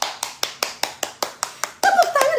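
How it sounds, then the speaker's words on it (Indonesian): Slow, evenly spaced hand claps, about nine sharp claps in a steady rhythm, followed by a denser burst of clapping mixed with a voice at a beauty product live stream. "Tepuk tangan ya sayangnya"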